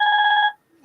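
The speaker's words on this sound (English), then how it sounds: "Sorry, my phone's ringing." A mobile phone rings with a brief electronic tone, a single steady burst close by that cuts off abruptly, followed by near silence.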